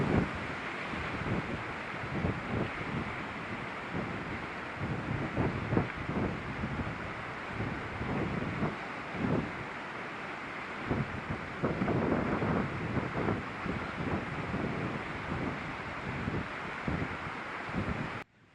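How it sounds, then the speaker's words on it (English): Stormy wind gusts and rough waves on the St. Lawrence River in the Thousand Islands, a continuous roaring buffeting with rumbling surges and heavy wind noise on the microphone, loud and close. "The St. Lawrence River is in a fury today."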